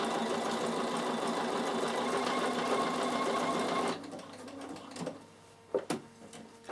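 A Bernina sewing machine runs steadily, stitching a decorative stitch along the edge of a fabric basket with a loud, fast whirring hum for about four seconds, then stops, leaving a few light mechanical clicks and thumps.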